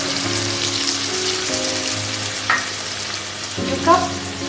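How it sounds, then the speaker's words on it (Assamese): Pork pieces stirred in a hot pan after warm water is added for a black sesame pork dish, giving a steady close sizzle with scraping stir strokes at about 2.5 and 4 seconds, no talking. "কুহুমীয়া গৰম পানী দিয়াৰ পিছত আমি মাংসখিনি ভালকে লৰাই দিম"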